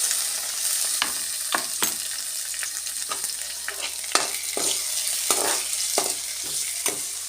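Tomato is sautéed in a pan for drumstick leaf soup: a soft steady sizzle is broken by repeated scraping stirs of a spoon against the pan, close and without speech.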